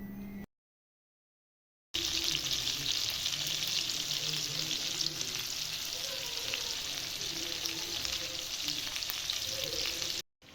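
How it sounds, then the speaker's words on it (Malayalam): Chicken for tandoori fries on high flame inside a cooker, a steady, close, continuous hiss of sizzling oil that starts after a brief silence near the beginning and holds until the end. "ഈ ചിക്കനെ ഇതിലിട്ട് ഹൈ ഫ്ലെയിമിലിട്ട് തിരിച്ചും മറിച്ചും ഇട്ട് ഒന്ന് നല്ല രീതിയിലൊന്ന് ഫ്രൈ ചെയ്തെടുക്കാം"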